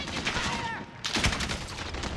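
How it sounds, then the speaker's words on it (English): Sniper rifle quick-scope shot in the video game Call of Duty Warzone: one sharp, loud report cuts in about midway through a busy stretch of game sound and keeps going, with a voice heard faintly under it. "I quick scoped him with one shot"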